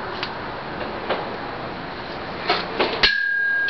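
Two MD43BS pop rivets loaded in a shear strength test, with a steady mechanical hum from the test rig, a few small ticks, then a sharp metallic snap as a rivet breaks, followed by a lingering ringing tone.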